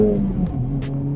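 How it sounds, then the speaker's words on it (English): A 2024 Acura Integra's engine hums low and steady close by, with a few sharp, brief exhaust cracks and pops breaking through. "You get those cracks and popples from the exhaust."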